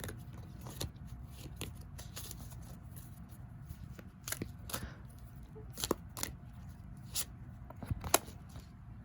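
Tarot cards are shuffled and handled quietly, with soft scattered flicks and taps in an uneven rhythm, close by and faint.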